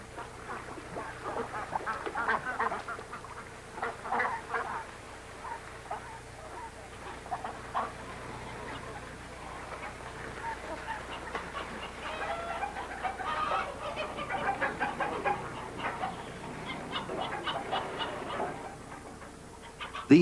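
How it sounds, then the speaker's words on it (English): Chickens, turkeys, ducks and geese along a riverbank, with steady overlapping clucking, quacking and occasional crowing, moderately distant over a low background hum for about twenty seconds. "Chickens and turkeys, ducks and geese stray along the riverbanks."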